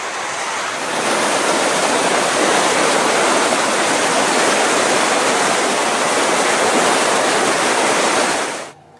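The Little Qualicum River beside Highway 4 on Vancouver Island rushes in a loud, steady, broadband roar under light rain, unbroken for the whole stretch before cutting off abruptly at the end.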